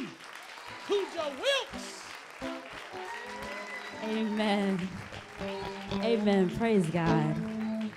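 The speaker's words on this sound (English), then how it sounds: "Put your hands together for the spokeswoman for the King of Glory, Pastor Gabby" A church congregation welcomes a guest pastor with sustained applause, moderately loud. Someone speaks and a few voices call out over the clapping.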